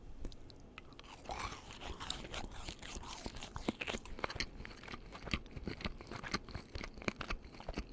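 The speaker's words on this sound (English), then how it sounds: "I like the little bit of the crunch that the little colorful sprinkles give off with it." Close-up crunching and chewing of a sprinkle-covered birthday cake Timbit from Tim Hortons, with irregular crisp bites and soft mouth sounds, no talking.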